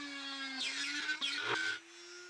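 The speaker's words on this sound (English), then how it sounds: "I raised the height of my drill press," A benchtop drill press boring screw holes through a motor mount used as a template, with a steady motor hum under two bursts of harsh, whining cutting noise close by.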